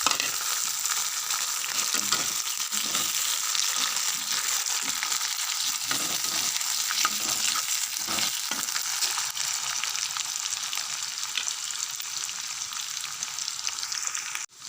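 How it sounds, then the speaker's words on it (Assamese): Chopped potatoes frying in a pan over a base of onions and meat give off a continuous loud sizzle close by, with a few scraping stirs early on and no talking. "আলুখিনি অলপ ভাজি ল'ম"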